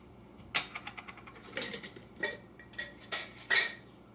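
A tablespoon measure scoops dry sprouting seeds from a container, producing a series of close, sharp clinks and gritty rattles in irregular bursts, with quiet pauses between them.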